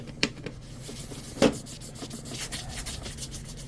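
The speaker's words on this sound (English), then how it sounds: "I'll take a magic eraser and I'm going to go across the whole bottom" A magic eraser rubs back and forth across the ABS bottom of a Volantex Vector 70 RC boat hull, giving soft dry scuffing strokes with a couple of sharper knocks, close and quiet, with no talk.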